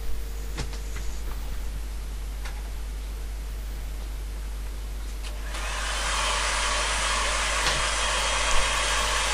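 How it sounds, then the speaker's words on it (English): A hair dryer switches on partway through, a loud steady broadband whoosh that continues to the end after a few faint clicks and handling noises. "give that a quick dry with the hairdryer"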